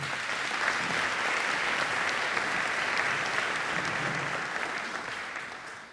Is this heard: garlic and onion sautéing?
no